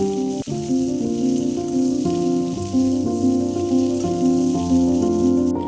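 Potato and green papaya sizzle steadily in a hot pan, a continuous frying hiss broken by a few soft knocks as they are stirred.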